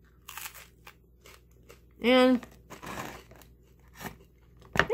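Someone bites into a crusty German farmer's bread made mostly with sourdough, giving one loud, close crunch followed by softer chewing crackles, with a brief spoken word before it.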